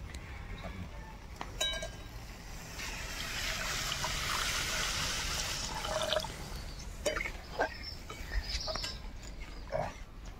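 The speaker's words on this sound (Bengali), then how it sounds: "দিয়ে দেবো পরিমাণ মতো জল" Water poured into a mustard and poppy seed curry for pabda fish, a steady splashing pour swelling through the middle of the clip amid kitchen clatter and occasional soft taps.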